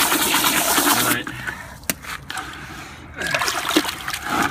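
Water splashes and sloshes as crystal reef sand for an aquarium is rinsed, loud and close at first, then a short quiet gap with a few small drips before splashing picks up again.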